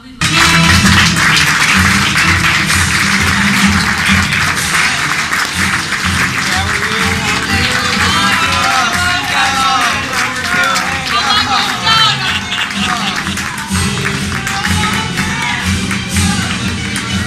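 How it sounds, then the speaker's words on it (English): Sustained, loud applause from a crowded audience greeting five candidates at a political campaign forum, dense clapping with scattered cheers that holds steady throughout. "applause"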